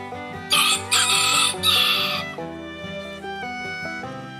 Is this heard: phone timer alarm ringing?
no